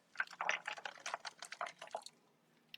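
Soy milk squeezed from the pulp drips and spatters in a rapid burst of small, close, wet droplet sounds lasting about two seconds before stopping.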